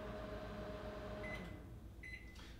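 A microwave oven heating lettuce gives a steady, close hum that runs throughout, with short electronic beeps near the end.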